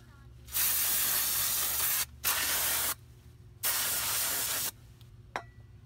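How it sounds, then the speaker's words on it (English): Brake cleaner sprayed onto the drum brakes of a 2005 Subaru Legacy in three loud, close bursts of hissing aerosol, the first and last lasting over a second and a short one between, followed by a faint click. "So now, take your brake cleaner."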